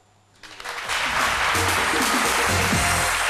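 An audience breaks into applause to welcome the artist Dr Philo, the clapping swelling from quiet within the first second into a dense, sustained roar with low musical tones beneath.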